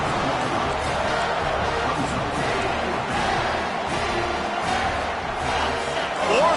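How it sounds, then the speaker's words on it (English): Dense stadium crowd roar at a college football game between Clemson and Miami, a steady wash of cheering and shouting that holds loud throughout and swells slightly near the end. "this crowd is making it miserable on this offense"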